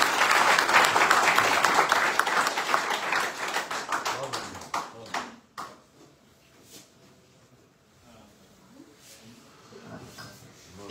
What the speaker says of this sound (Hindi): एक बार जो ताली बाजी